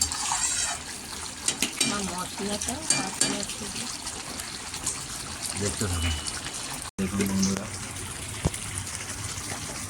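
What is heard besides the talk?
chicken boiling in its own juices in a pan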